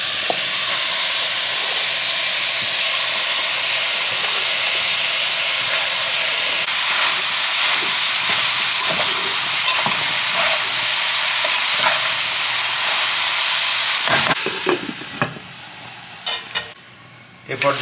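Shredded cabbage fries with shrimp in a pan, giving a loud continuous sizzle with scraping stirs, then tapering into scattered spatula knocks near the end.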